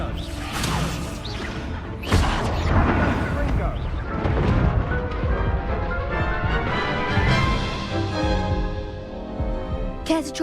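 Spell combat in Hogwarts Legacy erupts in loud blasts, whooshes and crashing impacts, several bursts in quick succession over a dense, busy game soundscape, with a voice speaking during the fight.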